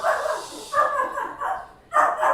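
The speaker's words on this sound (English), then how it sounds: "I don't even know what he's barking at." A dog barks loudly and close, four or five deep barks in short bursts with brief pauses between them.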